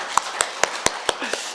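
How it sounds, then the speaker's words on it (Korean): Church congregation applause at a Sunday worship service, heard as a series of sharp, evenly spaced claps about every quarter second, fairly close and moderately loud, with no talk over them. "우리 한번 박수하도록 하겠습니다"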